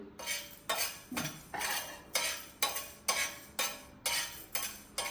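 Fenugreek powder is stirred and scraped in a roasting pan, making a steady series of about ten rhythmic metallic scrapes roughly every half second, close and clear, with no talking.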